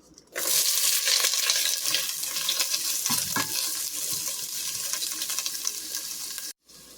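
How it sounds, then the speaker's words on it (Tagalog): Chopped onion sizzles loudly in a hot pan for Bisaya-style pork belly humba, a steady bright crackle running for several seconds with occasional stirring scrapes, then cutting off abruptly near the end. "Igisa na nato ang onion."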